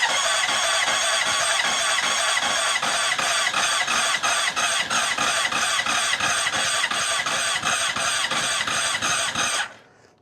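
A Honda CBR motorbike, a cheap project bike just treated with contact cleaner on the kill switch, cranks on its starter with a rapid, steady rhythmic churning for about ten seconds before cutting off, loud and close with no voices.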